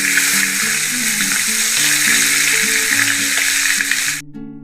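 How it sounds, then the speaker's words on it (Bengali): Hard-boiled eggs lightly frying in oil with salt and turmeric give a loud, steady sizzle that runs continuously beneath background music, then drops away abruptly near the end. "তারপরে তেলের মধ্যে নুন আর হলুদ দিয়ে ডিমগুলোকে হালকা একটু ভেজে নিলাম।"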